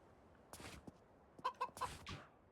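A chicken in the video game A Space for the Unbound clucks in a series of short, close, separate bursts, with a few sharper clucks bunched near the end.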